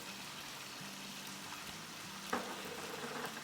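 Crushed green chilli, ginger and garlic paste sizzles in a pot of Bombay chicken biryani with potatoes, a soft, steady frying hiss with one sharper crackle partway through.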